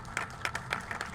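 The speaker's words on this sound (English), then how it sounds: "Let's give a round of applause to Texas A&M's Corps of Cadets." Brief burst of audience applause for the Texas A&M Corps of Cadets at a veterans home ceremony, a short patter of hand claps indoors, moderately loud and steady.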